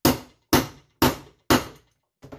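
A hammer strikes a cutting tool through leather, four sharp, evenly spaced loud blows about half a second apart, each ringing briefly before fading, followed by a quieter double knock.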